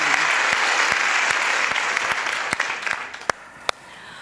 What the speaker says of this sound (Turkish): en büyük alkışlar olsun